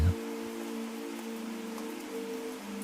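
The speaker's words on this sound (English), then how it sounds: "Outside, the rain taps gently on the window" Rain taps gently on a window in a soft, steady patter, accompanied by a faint low hum, with no voices.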